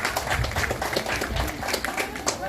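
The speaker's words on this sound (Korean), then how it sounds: "여러분들 그 뜨거운 박수로 한번 또 환호해 주시기 바랍니다" Outdoor festival audience at a Korean wheat landscape festival applauding the organizers, a brief burst of scattered, close clapping with rapid uneven hand strikes.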